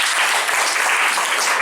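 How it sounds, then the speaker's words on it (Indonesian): Audience applause at a motivational talk, a steady dense wash of many hands clapping at once, fairly loud and continuous for a short stretch with no voices over it. "Tepuk tangan dulu nih."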